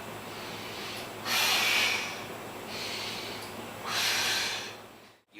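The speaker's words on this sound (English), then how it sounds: "lower ourselves down, breathing in, and push ourselves back up whilst breathing out" Breathing in and out during push-ups: two long, loud breaths, heavy rushes of air close to the microphone, separated by quieter stretches, with no talk.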